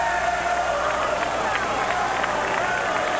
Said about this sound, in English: The crowd chanting air ball.